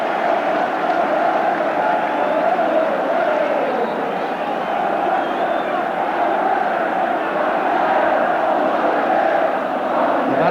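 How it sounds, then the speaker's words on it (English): A large football crowd at a Tottenham v Nottingham Forest match roars steadily after a Tottenham goal, a dense, sustained stadium din with no breaks. "And that's awoken the crowd from its slumbers."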